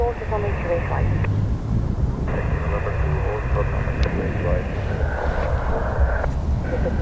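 An airplane at Dublin Airport drones with a steady low engine rumble, joined by tonal whines that shift partway through, heard at a distance with people talking over it.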